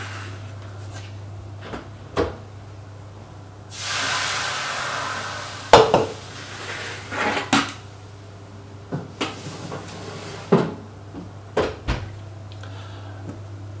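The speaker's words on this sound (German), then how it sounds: "Ich werde sie jetzt mal in den Ofen tun." Clattering metal knocks and thumps with a whoosh of air, like a tray sliding into an oven and the door closing, over a steady low hum.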